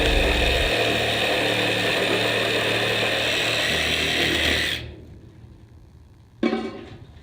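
A power saw whines loudly and steadily while cutting samples at a fire scene, then stops abruptly, leaving quiet before a short burst of noise near the end.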